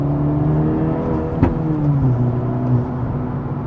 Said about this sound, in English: kind of like a performance sounding exhaust, a little more mellow, but still louder than stock